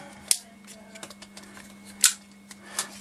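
Plastic parts of a Transformers classics toy, Jetfire/Skyfire or Grimlock, click and snap as the chest is unpegged and the arms are rotated, with two sharp clicks and lighter ticks over a steady low hum.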